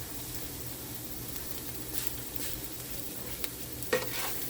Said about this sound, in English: Let our onions sweat down.